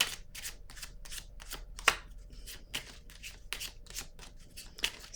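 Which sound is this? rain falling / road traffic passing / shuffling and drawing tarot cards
shuffling and drawing tarot cards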